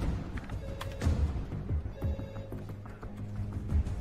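A telephone rings inside an action-film scene, a steady ringing tone repeating over low rumbling thuds and background movement, moderately quiet and without speech.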